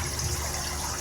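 Water from a home shrimp tank being drained, a steady close rushing and gushing flow of liquid with no voices.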